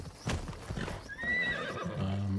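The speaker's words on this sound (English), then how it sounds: "Get on the horse." A horse in the Assassin's Creed Shadows video game clip-clops briefly, then gives a clear, fairly close whinny with no talking over it.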